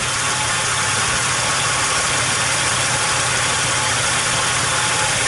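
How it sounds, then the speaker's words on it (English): A Chevy Impala engine idles steadily and loudly up close, with a rough, vibrating mechanical hum and a change in RPM as oil-damaged wires short out. "You can hear the change in the RPM."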